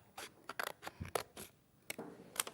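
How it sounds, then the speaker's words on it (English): Hunkydory crafting scissors snip through card in a series of crisp, close cuts, several short crunchy snips spaced irregularly in a quiet room. "Such a definite cut, those scissors, aren't they?"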